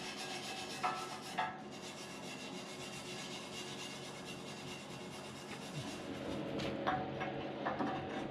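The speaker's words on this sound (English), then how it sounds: "I'm trying to clean up the metal inside as well as I can." Scraping and filing inside a steel tube, cleaning the metal before welding a bumper at the hinge end; a steady close rasping rub with a few sharper knocks, getting busier toward the end, no talking.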